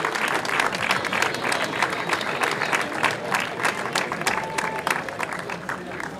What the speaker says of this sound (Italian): lo dobbiamo accogliere veramente con un grossissimo applauso